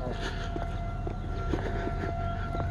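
An outdoor civil defense siren holds a steady wailing tone in the distance, sustained under ambient noise with faint rustling.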